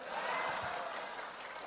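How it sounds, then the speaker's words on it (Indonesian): An audience at an indoor gathering applauds in a dense, steady wash of clapping that holds at an even loudness throughout, with a crowd murmur mixed in. "tepuk tangannya keras lagi."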